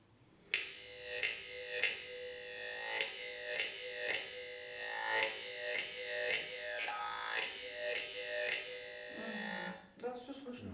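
A Yakut khomus jaw harp is plucked in a regular rhythm of sharp twangs, its buzzing drone shifting in tone with mouth articulation, close and clear before a brief voice at the end.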